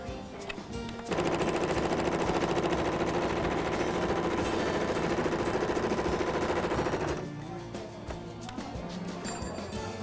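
A sewing machine stitches a care cap in one long steady run, a rapid even rattle that starts abruptly after a second and stops near seven seconds, with lighter handling noise before and after.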